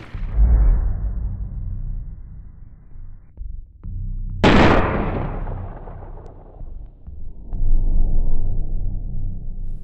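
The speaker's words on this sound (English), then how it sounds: "Paul was struggling to stop a car as Ivan was shooting at him." Gunshots fired at a fleeing man in an animated horror story: loud, booming reports with long rumbling decays, one sharp crack standing out midway, all over a continuous low drone.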